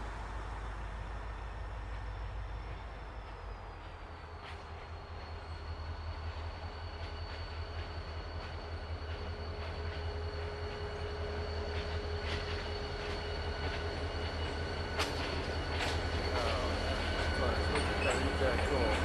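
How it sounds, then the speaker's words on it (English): A CSX freight train rumbles past within 20 feet, with heavy low rumble, clacking wheels and a steady high whine, while someone speaks over it. "here comes the train"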